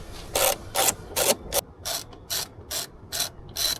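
A ratchet clicks in nine quick, evenly spaced bursts while backing out the rear seat screws of a Tesla Model S or Model X, close and fairly loud, with no talking.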